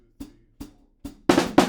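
Five drum hits in a sparse pattern: three soft, low thuds spaced apart, then two loud, sharp snare-like hits in quick succession.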